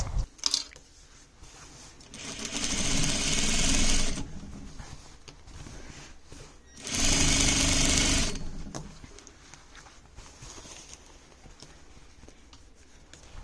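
Sewing machine stitching down the seam of a pair of men's pants, two loud bursts of steady rapid whirring separated by a quiet pause, close by with no talk.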